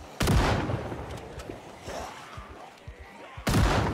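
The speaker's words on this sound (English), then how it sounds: "I have to use a gun now." Gunshots from a gun in the zombie survival game Project Zomboid: two loud, sharp blasts, one at the start and one near the end, with faint thumps and rustling between them.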